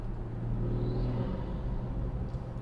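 A BMW 340i's B58 turbo engine with an aftermarket intake idles with a deep, steady rumble and low droning hum, continuous and close, with no voices.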